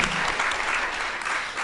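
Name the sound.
audience applause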